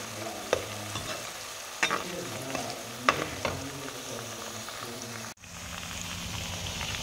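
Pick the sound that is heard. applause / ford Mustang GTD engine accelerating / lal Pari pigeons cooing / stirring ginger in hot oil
stirring ginger in hot oil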